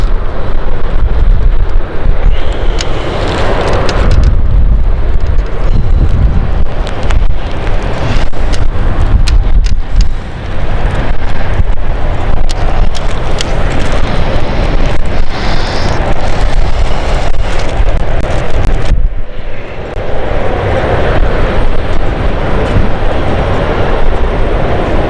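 Jet airliner on the Amsterdam service at London City Airport, a loud continuous engine roar with rushing broadband rumble that holds steady for about twenty seconds before easing slightly.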